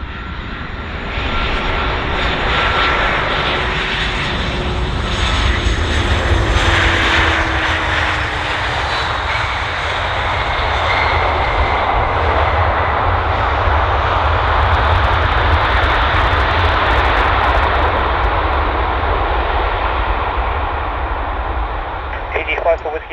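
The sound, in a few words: aircraft landing at Bristol Airport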